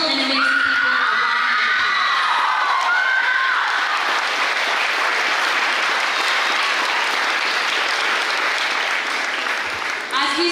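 Loud, sustained applause from a graduation audience honoring the graduates' parents and guardians, dense clapping mixed with cheers, whoops and a few high shouts throughout, with some voices audible early on.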